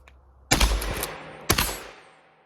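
A pump-action shotgun with a full choke fires two loud, sharp blasts about a second apart as it is racked rapidly, each with a ringing decay, close up and with no talking.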